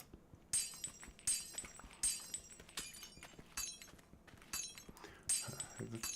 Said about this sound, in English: We can take out the glass this side.